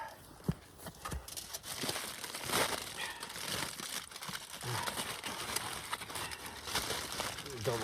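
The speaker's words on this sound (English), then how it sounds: "I think I can get 3 in this foil pack." Aluminium foil crinkling as hot food is wrapped into a foil pack outdoors in the cold, irregular close crumpling and rustling, with someone speaking at times over it.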